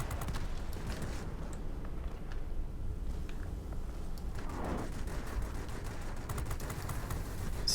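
Machine gun fire from a rear gunner's position in an aircraft combat video game, fast rattling bursts of shots mixed with engine drone and scattered explosions at moderate level, with no talking.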